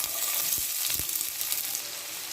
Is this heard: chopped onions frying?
yes